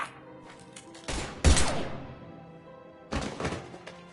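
Gunfire in Mass Effect Legendary Edition: a couple of heavy thumping shot bursts, one after another, with a pause before a final volley, loud and close.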